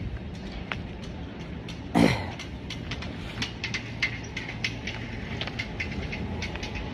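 A Nankai Line train runs along the track with a steady low rumble and a string of faint rhythmic clicks, plus one brief louder burst early on. No one talks.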